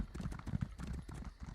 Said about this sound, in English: Get on our horse.